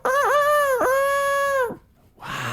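A voice imitates a rooster crowing: one long, loud, strained cock-a-doodle-doo wail with pitch bends, close up, followed by a brief pause and a softer breathy sound.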